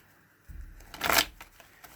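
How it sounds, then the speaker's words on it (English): A brief riffle of tarot cards being shuffled, a soft rustle building to a short crisp flutter, close by with no talking. "let's go ahead and shuffle for you guys"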